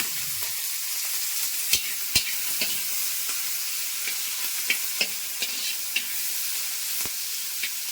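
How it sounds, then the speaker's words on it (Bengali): Onions fry in hot oil in a wok, a close, even sizzle with scattered clicks and scrapes as they are stirred. No one speaks. "ভালো করে পেঁয়াজটা ভাজবো"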